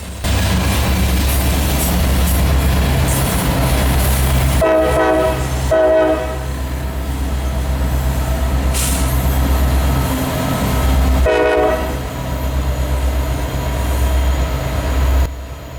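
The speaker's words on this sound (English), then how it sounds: "After the ethanol train passed us" An ethanol freight train rolls past on a Pennsylvania line with a loud, steady rumble of wheels, while its horn sounds in several short blasts over the continuous roar.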